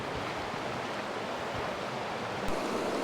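Creek water flowing beside a trail, a steady close broadband rush and gurgle with no voices.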